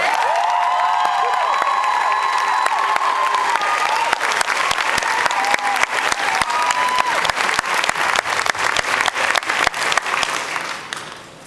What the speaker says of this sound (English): Big round of applause for Zoe Palmer